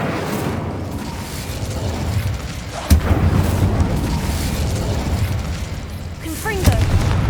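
A fiery Incendio spell bursts in Hogwarts Legacy, a loud booming blast near the three-second mark amid the rumble of combat, with a voice shouting over the noise.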